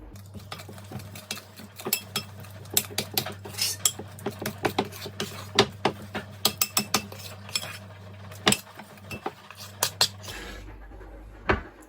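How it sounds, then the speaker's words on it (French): Whisk clinking against a bowl while banana and coconut fritter batter is beaten, a steady run of light metallic taps and scrapes under a low hum, close up, with no talk. "Et j'essaie de faire une pâte à beignets homogène."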